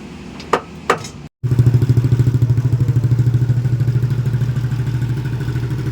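Motorcycle with a new power exhaust pipe on a Dynojet dyno, a couple of brief revs and then a loud, close engine running hard with a steady pulsing drone.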